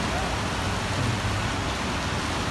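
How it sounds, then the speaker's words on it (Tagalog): Heavy rain pouring down outside a shopping mall in Salmiya, Kuwait, a dense, steady hiss with a low rumble beneath, continuous and loud throughout with no voices. "Sobrang lakas ng ulan"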